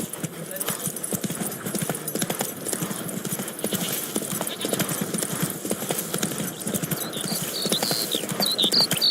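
Hooves of Roach, the horse in The Witcher 3 video game, clip-clop in a brisk, steady rhythm close by, with a brief whinny, under talking voices and game ambience.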